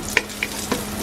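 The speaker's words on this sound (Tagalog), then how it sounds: "Igisa ko lang na parang pantinola." Squid sizzling as it is sautéed in a pan, a close and steady frying hiss with a few short utensil clicks over about a second, with no voices.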